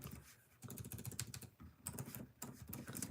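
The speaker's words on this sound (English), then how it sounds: "So I type in housewife" Typing on a computer keyboard: quick bursts of close, crisp key clicks in an uneven rhythm, with short pauses between runs of keystrokes and no talking.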